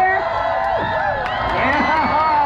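A crowd at a live lumberjack show cheers and whoops, loud and near, with scattered shouts and a continuous roar of voices.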